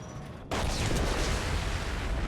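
A huge nuclear blast in the Mass Effect 2 video game bursts in abruptly after a brief quieter lead-in, then sustains a loud, rumbling, crackling roar with deep low-end weight.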